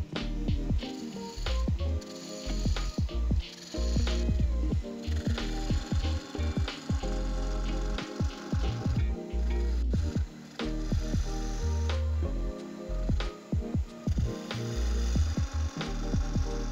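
A wood lathe spins a salt and pepper mill blank at about 1200 to 1300 rpm while a spindle gouge cuts, giving a steady hum with repeated scraping, chattering bursts of wood being turned, close and fairly loud throughout.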